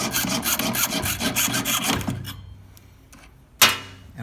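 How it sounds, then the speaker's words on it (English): A jeweler's saw cuts metal ring stock held on a bench pin, giving a steady run of rhythmic rasping strokes for about two seconds, then quiet with a sharp scrape near the end, close and fairly loud. "And now I'm going to saw again"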